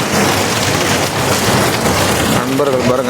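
Steady rain falls on a street in Singapore in the morning, a dense, continuous hiss close by, with a faint tonal sound near the end.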